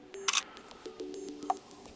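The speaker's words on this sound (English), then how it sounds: "When you press on the shutter, the photo will be taken after a few seconds." Realme C11 phone camera firing its shutter after the self-timer countdown, a quick bright double click near the mic, followed by a few faint soft beeps and a short chirp in a quiet room.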